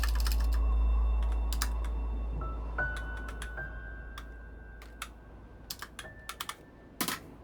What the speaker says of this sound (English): Type it in with my keyboard.